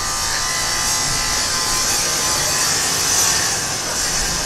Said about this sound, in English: Looks like he's running a wet saw,